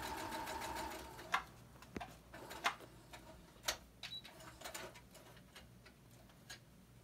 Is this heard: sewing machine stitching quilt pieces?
yes